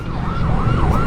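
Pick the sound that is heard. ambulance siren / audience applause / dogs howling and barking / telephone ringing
ambulance siren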